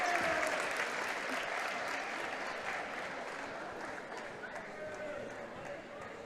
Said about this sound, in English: Nice applause for the Montoursville area senior cheerleaders, Paul.